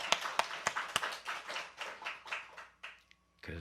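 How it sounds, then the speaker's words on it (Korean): A church congregation claps in praise, a quick run of sharp claps that swells into a brief ragged burst, then fades out, heard at moderate distance. "하나님께 영광 박수 올립시다."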